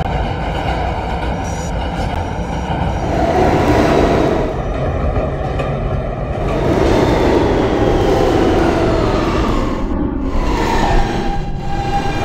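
An R160B Siemens subway train from the Roblox game runs along the track with a steady loud rumble and hiss, swelling slightly midway and holding constant without any talking.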